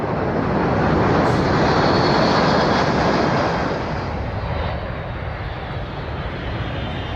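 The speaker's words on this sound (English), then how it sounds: "The C-17 has a short field capability, so it can get into and out of airfields with very short runways." A C-17 transport aircraft passes at the Farnborough Airshow 2002 with a steady, loud jet roar that swells early and then eases slightly while holding, with no voices.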